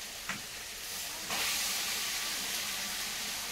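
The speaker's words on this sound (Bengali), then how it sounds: "এবারে চিকেন পড়ে যাচ্ছে, মশলা মাখানো চিকেন।" Spice-marinated chicken dropping into a hot pan for biryani, a sudden loud hiss that settles into a steady, close sizzle.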